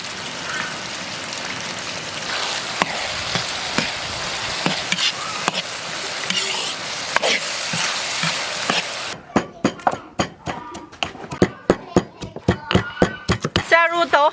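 Minced beef stir-fried in a wok with diced shiitake mushrooms and small chili peppers for a beef-mushroom sauce: a steady loud sizzle and scraping for about nine seconds, then a quieter pan with a run of sharp, regular clacks of a spatula.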